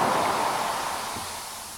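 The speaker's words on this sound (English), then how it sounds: "Just want to have a low noise rumble out of" Low, washy noise rumble shaped by distortion in music production software, a steady broadband hiss that slowly fades in level with no other sounds.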